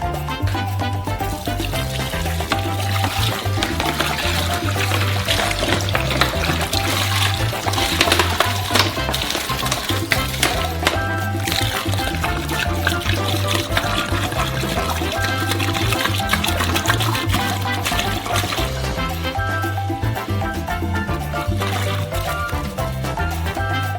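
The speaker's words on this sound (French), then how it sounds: "on verse d'abord la moitié de l'eau" Water pours steadily into a large mixing container for a giant homemade Twix batch, a continuous loud gushing and splashing that runs without pause.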